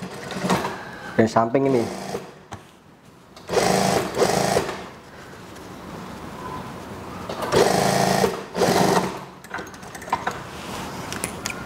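A sewing machine stitching a long elastic-waist school skirt whirs in bursts of a second or two, with pauses between runs and someone speaking softly over it.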